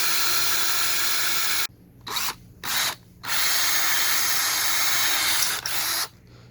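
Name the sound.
drill pre-drilling holes in siding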